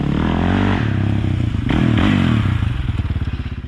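A Yamaha YFZ450R quad's single-cylinder engine revs hard on a short dirt course, loud and close, with rising and falling pitch as the throttle opens, plus rattling chassis clatter and a brief thud midway.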